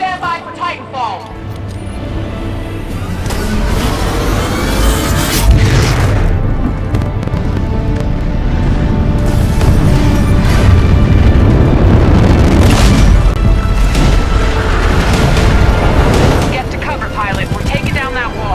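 Titan landing and explosions in the Titanfall 2 campaign, with heavy booming blasts and a sustained dense rumble running for most of the stretch, loud and close, amid the game's sound effects.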